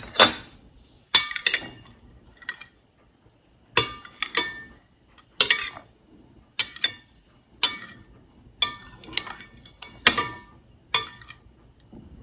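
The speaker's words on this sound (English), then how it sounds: "Then give it a good stir to combine." A spoon stirs a coconut coffee jelly mixture in a container, with repeated sharp clinks and scrapes against the side coming in irregular bursts, close and clear with no talking.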